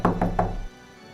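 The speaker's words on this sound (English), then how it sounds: "suddenly there was a knock on my door" Three quick knocks rap on a wooden door in a gothic audio drama, close and solid, then fall silent.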